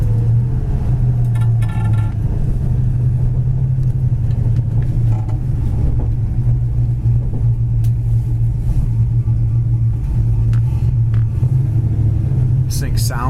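A 1969 Plymouth Road Runner's engine rumbles low and steady while being downshifted through the gears toward first, with brief mechanical clicks and shifts and someone talking over the engine throughout.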